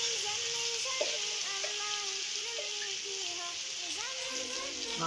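Garlic sizzles and fries in a pan with onions as a steady, crackling hiss throughout, with a voice speaking softly over it.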